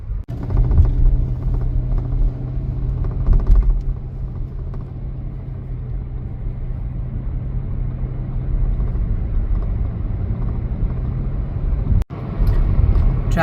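Heavy road traffic on a commute to work in Saudi Arabia produces a steady low rumble of engines and passing cars, fairly loud and continuous, with a brief dropout near the end.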